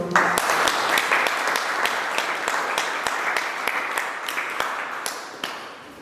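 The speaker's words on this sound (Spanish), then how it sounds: "Un aplauso, por favor." An audience claps steadily for a guest speaker at an academic gathering, a dense, even round of applause with occasional sharper individual claps, tapering slightly at the close.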